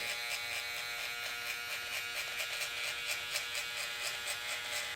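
A hard hair trimmer buzzes close and steady while cutting thick hair for a medium high fade comb-over, a continuous bright electric whine with faint pulsing as it taps along the line.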